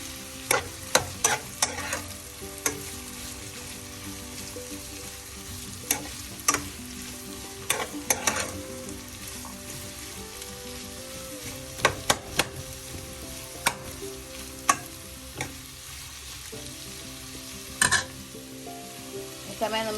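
Onions frying in coconut oil for a crab roast masala, stirred close up: a steady bed of sizzle broken by repeated sharp spatula scrapes and clicks against the pan, with no talking.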